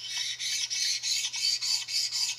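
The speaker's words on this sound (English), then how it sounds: "So the stone made a different sound as I went over a high spot." Sharpening stone rubbed back and forth over the ways of a Kurt milling vise, a close rasping scrape in even strokes about twice per second, with no voices.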